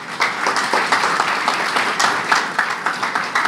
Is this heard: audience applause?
yes